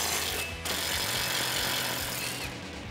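An 18mm socket on a tool spins off the knuckle bolt nut on a 2015-2019 Ford Mustang while a 15mm open-ended wrench holds the bolt, giving a dense, continuous rattling mechanical chatter up close, briefly easing twice.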